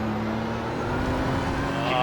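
A race car in the iRacing simulator during an IMSA series race drives alongside on the left, its engine a steady, loud drone that holds level throughout with a faint higher whine rising near the end.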